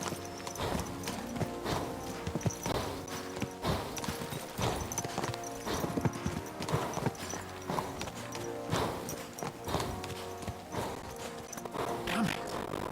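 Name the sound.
horses' hooves while riding, from video game Kingdom Come Deliverance 2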